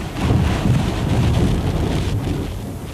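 Hurricane Andrew lashes Miami with a steady roar of wind and heavy rain that sounds loud and continuous, rumbling without a break.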